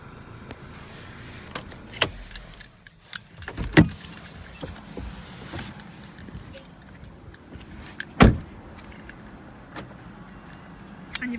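The electric sunroof and sunblind of an Indium Grey Volkswagen Tiguan 2.0 TDI SEL 4Motion open inside the car, giving a soft motor whir with several sharp clicks and thumps as the panels slide and stop.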